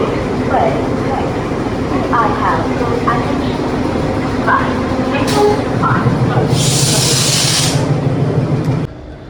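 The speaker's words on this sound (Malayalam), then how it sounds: "നമ്മുടെ ട്രെയിൻ സ്റ്റാർട്ടായിട്ടുണ്ട് കേട്ടോ." The Ooty toy train pulls out of the station bound for Coonoor with a continuous low rumble and a short sharp hiss burst near the end, while people talk throughout.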